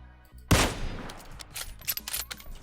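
Gunshots in PUBG Mobile, a sharp loud shot followed by a scattered series of quieter shots and impacts over a few seconds.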